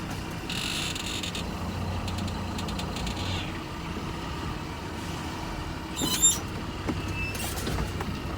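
A truck rolls slowly at about 5 miles an hour during a service brake test, its engine rumbling low and steady, with hissing air-brake bursts and a brief clunk near the end.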